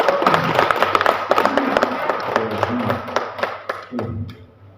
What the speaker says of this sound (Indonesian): Ibu tepuk tangan dulu